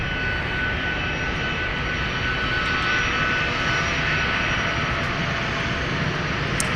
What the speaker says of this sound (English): we got a 757 making a bunch of racket